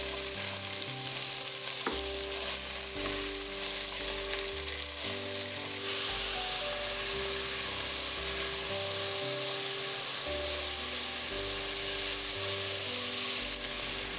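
Onions frying in a pan for a button mushroom curry with umbalakada, salt added, a loud continuous sizzle with steady stirring throughout, close and without talk.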